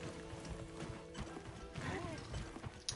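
Horse hooves clip-clopping in the video game Monster Hunter Wilds, a steady run of hoofbeats under game music and effects, with a brief whinny-like call near the middle.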